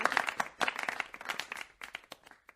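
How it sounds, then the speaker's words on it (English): Audience applause with a steady crowd of hand claps, dense at first and thinning toward the end, heard in a room at a live comedy podcast show. "Look, they're clapping for me, and I'm not even eating meat."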